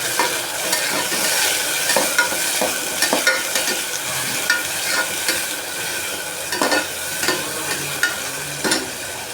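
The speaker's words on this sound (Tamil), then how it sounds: "இஞ்சி பூண்டு பேஸ்ட்டையும் போட்டு நல்லா வதக்கி விட்டுக்கலாம்" Ginger garlic paste sautéing in a pressure cooker for mushroom biryani sizzles loudly up close, broken by repeated rhythmic scraping and clinking of a spoon stirring against the metal pot.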